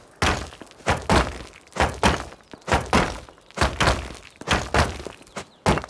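Several players in the game Rust strike a rock with tools, giving a steady run of about a dozen loud, close, heavy thunks in regular rhythm with no talking over them.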